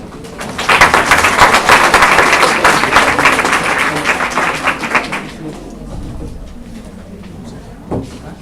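Audience applause for a speaker at a talk on pregnancy myths, a dense burst of clapping for about five seconds that thins and fades into room noise, loud and close.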